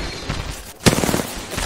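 Apex Legends gunfire: a short, loud crack of shots after a brief lull, with a dense, noisy background of game action around it.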